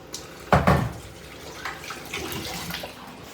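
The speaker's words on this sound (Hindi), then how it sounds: "मेरे सारे प्लांट सूख रहे होंगे, लेकिन तब भी तो उनको थोड़ा सा पानी दे दूँ" Water splashes onto dried-out potted plants as it is poured, with a sharp splash burst early and then softer trickling and dripping nearby.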